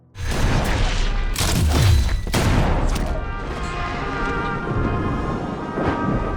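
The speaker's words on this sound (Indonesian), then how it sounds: "Namun sayangnya Maximus terkena tembakan di bagian lengannya." A burst of sharp gunshots and booming impacts from the Fallout series, followed by a lingering rumble and scattered fainter bangs.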